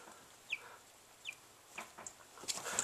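Cornish Cross meat bird chicks at two weeks old, giving a few short, high peeping chirps spaced about a second apart, fairly faint over a quiet, low background hum.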